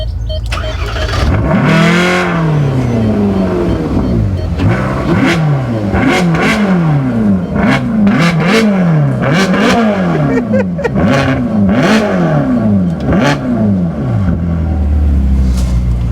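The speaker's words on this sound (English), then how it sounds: "Let's just show everyone what it sounds like on start up." A Bentley Continental GTC Supersports fires up with a loud burst, then its engine is revved repeatedly in a rising-and-falling rhythm, close and powerful, with a steady idle between blips.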